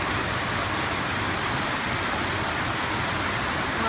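Floodwater pours like a waterfall into an underwater train station beside a flooded parking lot and tunnel, a steady, loud, dense rushing roar that fills the whole stretch without a break.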